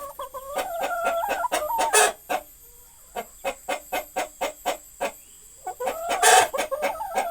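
Chickens cluck near their coop in a close, loud series of sharp rhythmic clucks, with a drawn-out cackling call at the start and again near the end.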